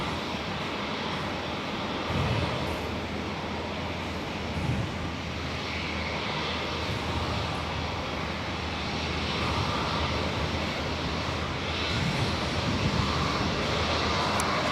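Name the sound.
Cathay Pacific airliner passing at Perth airport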